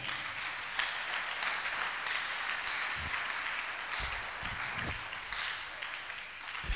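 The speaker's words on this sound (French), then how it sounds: "Acclamez pour vous-même." A church congregation applauds together, a steady broad wash of clapping that holds throughout at moderate distance, with a few louder bursts near the end.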